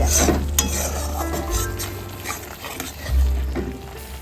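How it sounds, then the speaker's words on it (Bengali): Spice paste frying for a jackfruit and potato curry, a steady close sizzle under repeated scraping and clanking of a spoon stirring in the pan, fairly loud with no talking. "এখনো মশলাটা কষাচ্ছি এঁচোড়টা সেদ্ধ করে রেখেছি"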